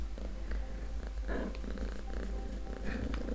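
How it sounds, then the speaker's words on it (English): A cat purrs steadily and close up, a soft low rumbling rhythm with no talking. "Apologies by the way if you can hear my cat purring."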